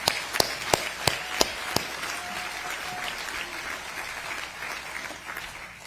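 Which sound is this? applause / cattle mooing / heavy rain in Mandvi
applause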